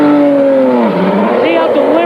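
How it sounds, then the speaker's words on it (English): An Indy 500 race car from 1996 accelerates out of the pit lane, its loud, close engine note dipping and then climbing again as it pulls away, alone without talk. "Now, listen to the car as it goes out."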